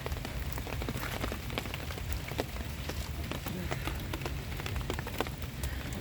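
Steady rain patters on a surface, dense and continuous, with scattered sharper drops tapping through the hiss.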